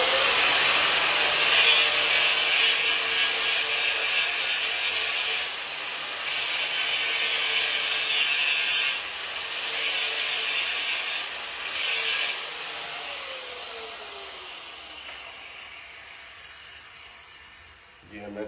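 Power tool grinding away at a suspension part during a car suspension install, a loud continuous high-pitched whine that eases off partway through and fades toward the end, with someone talking over it.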